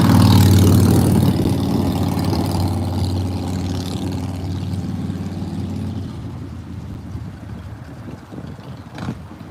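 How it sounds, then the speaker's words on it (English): A motorcycle engine passes close by on the road, loud and rumbling at first, then fading steadily into the distance over several seconds. "And I hear engine sounds when it drives by me. It's this motorcycle coming up behind me."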